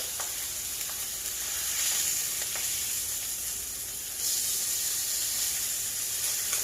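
Gyro meat frying in a hot pan on medium heat, giving a steady, close, bright sizzle and hiss that swells slightly partway through, with no talking.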